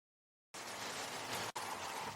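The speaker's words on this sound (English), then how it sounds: "this is getting a bit too much rain" Rain falling during an outdoor test ride of a PVY Z20 Pro EVO e-bike, a sudden, steady wash of rain noise that starts abruptly after silence, breaks off briefly and resumes.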